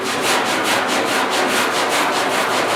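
Coarse 40-grit sandpaper rasps rhythmically back and forth over the steel cab bodywork of a 1956 Mercury, loud, close and continuous with even strokes.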